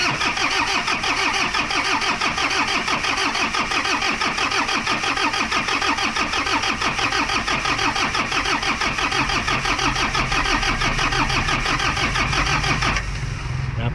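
A Toyota Hilux engine with a suspected computer box fault cranks and churns steadily for about thirteen seconds, a loud, dense mechanical whir that stops abruptly near the end.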